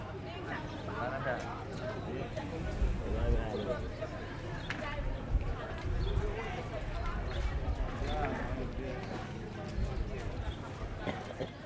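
Horse cart hooves clip-clop in a steady rhythm along a road to a village market in Senegal amid a faint background murmur of voices and street noise.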